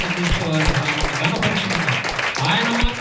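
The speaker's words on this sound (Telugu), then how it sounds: "గట్టిగా చప్పట్లు కొట్టి మన ప్రభువుని" A church congregation claps loudly and continuously during a prayer service, with a voice heard over the dense applause.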